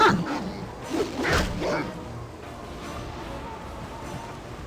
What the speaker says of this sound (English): Ooh, war dogs.